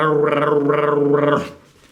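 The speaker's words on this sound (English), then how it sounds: "That is the weirdest sound I've ever heard Peach make" Corgi dog making a strange drawn-out vocalization indoors after hearing dogs barking outside, three rising-and-falling whining howls close by, ending abruptly in near silence.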